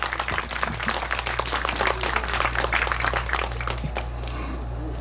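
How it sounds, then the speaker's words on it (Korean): Audience of about 300 at a festival opening ceremony clapping in a dense, steady round of applause that carries on for several seconds before thinning out slightly. "다시 한번 좀 박수 좀 쳐주십시오"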